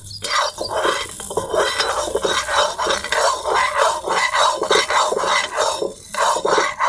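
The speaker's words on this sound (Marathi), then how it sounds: "कढईमध्ये आपण राजगीर टाकल्यावर लगेच लाह्या व्हायला सुरुवात होते" Amaranth seeds pop rapidly in a deep wok, a dense, close crackling mixed with scraping stirring sounds. The noise stays loud and continuous throughout.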